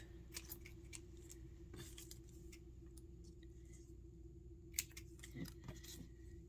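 Scissors snip through paper strips in a quiet room, making a few soft, scattered cuts and rustles over a low background hum.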